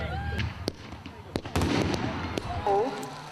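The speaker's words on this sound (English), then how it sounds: "And the fireworks were magnificent." Fireworks burst at a Round Table fundraising event, with several sharp cracks and bangs spaced irregularly over a few seconds amid faint crowd chatter and crackling.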